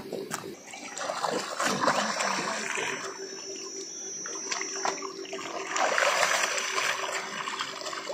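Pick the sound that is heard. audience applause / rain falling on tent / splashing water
splashing water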